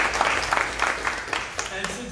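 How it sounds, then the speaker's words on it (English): Audience applause at a Saturday-night vegan event, a dense wash of many hands clapping, fairly loud and steady for a couple of seconds, with voices mixed into the crowd noise. "Let's have a big applause for Jeff and Estella from this event."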